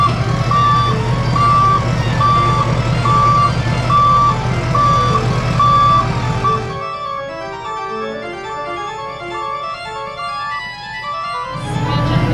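A long tow truck backs up to hitch an Airstream trailer: loud, evenly spaced reversing beeps sound over a rumbling engine for about seven seconds, then stop and leave lower engine and mechanical noise.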